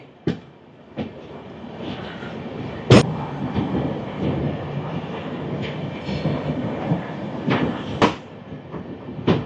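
The Hirakhand Express rolls out on its run toward Jagdalpur, a steady rumble of carriages with scattered sharp clanks and knocks rising above it, heard from on board.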